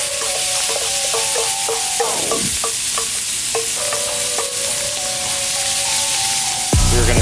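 Two pounds of rinsed sauerkraut sautés on an offset smoker, giving a loud, continuous sizzle with occasional scraping stirs and metallic clinks.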